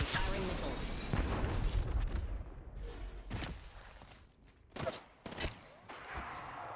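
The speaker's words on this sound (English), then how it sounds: "Fox 3, firing missiles." Valkyrie's missile barrage in Apex Legends sets off a dense, crackling volley of blasts and pops, followed by a few sharp separate bursts later, with people talking in between.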